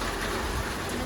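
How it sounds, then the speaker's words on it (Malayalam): Steady rain falls outside a home, a continuous broadband wash of patter that holds evenly through the short moment with no voices over it. "മഴ തന്നെയാണ്."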